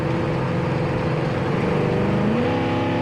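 A 1970 Pontiac LeMans engine drones steadily with a deep exhaust rumble while driving, rising slightly in pitch as the car accelerates, continuous throughout.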